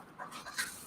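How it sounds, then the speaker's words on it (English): A dog pants quickly at close range, faint and short, with a small whimpering squeak near the end. "my dog is making noise"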